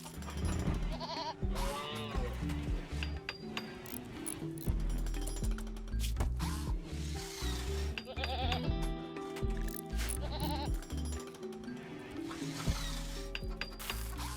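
Goats bleating on a farm in the RimWorld video game, repeated wavering bleats rising over a busy, continuous bed of game music and ambient noise, fairly loud throughout.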